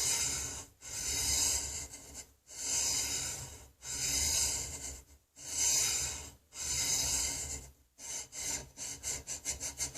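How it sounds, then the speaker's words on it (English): Long, steady rasping strokes of a hand file draw-filed along an octagonal steel rifle barrel, about six even back-and-forth passes followed by a quicker run of short strokes, close and clear with no talking. "and then filing with long strokes"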